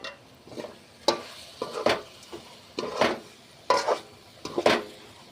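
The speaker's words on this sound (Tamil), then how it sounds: "அந்த எண்ணெயிலே பொடியெல்லாம் கொஞ்சம் வறுபடுற மாதிரி கிளறி விடுங்க" Masala powder fries in hot oil for a village-style brinjal kara kuzhambu while a ladle stirs it, giving about eight distinct scraping strokes over a soft, steady crackle.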